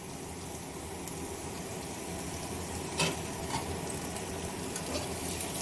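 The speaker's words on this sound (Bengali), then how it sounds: "এবারে আমরা কেটে রাখা পনিরটা দিয়ে দেব" Chopped paneer tipped into onions already frying in hot oil, giving a steady, low sizzle throughout with one brief soft clatter as the pieces land.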